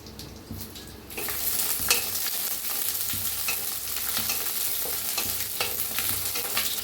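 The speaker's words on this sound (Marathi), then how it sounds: "त्याला भाजून घेऊया हलकंसं" Chopped onion fries in hot oil in a kadhai, a brief quieter start jumping into a constant loud sizzle with occasional stirring scrapes and clinks throughout.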